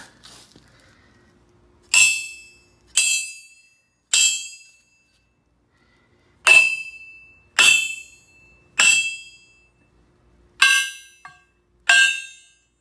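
A metal pipe fitted with a PMH shunt moved upward is struck repeatedly in uneven groups, each blow a sharp, close clang with a bright ring that decays within a second, separated by quiet gaps.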